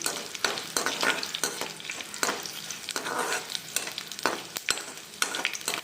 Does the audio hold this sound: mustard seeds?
yes